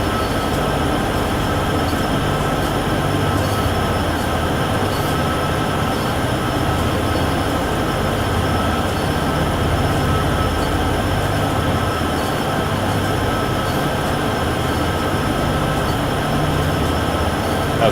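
Continuous locomotive rumble and rail running noise from a freight train on the Cheyenne–Laramie line in Train Sim World 6, steady engine drone with faint wheel squeal throughout.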